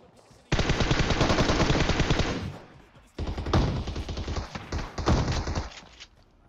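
Rapid full-auto gunfire from Groza and MK14 rifles in PUBG, two long dense bursts separated by a short pause, loud and close with no talking over them.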